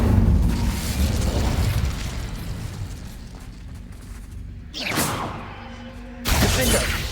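Incendio fire spell cast in the video game Hogwarts Legacy, a loud fiery whoosh and roar followed by crackling bursts, with a second sharp burst near the end.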